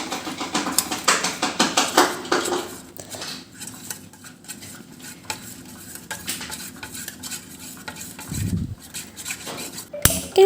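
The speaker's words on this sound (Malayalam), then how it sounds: "ഇതെല്ലാം ചേർത്ത് കൊടുത്തിട്ട് നമുക്ക് കട്ടയില്ലാതെ എല്ലാം നന്നായിട്ട് മിക്സ് ചെയ്തെടുക്കണമേ" A spoon scrapes and clinks around a bowl while pudding ingredients are stirred together, fairly loud and busy at first, then settling into softer, steadier scraping with a brief clatter near the end.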